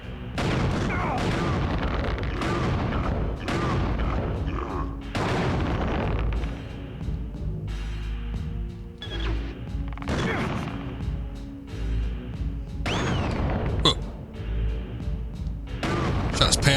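Gunshots in Killer7, sharp loud blasts repeating every second or two with crashing impacts between them, while a voice talks over parts of the action.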